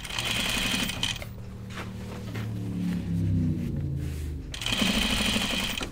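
A sewing machine stitches a jeans pocket in rapid, loud mechanical bursts, running steadily, pausing briefly in the middle and then starting up again, with no talk.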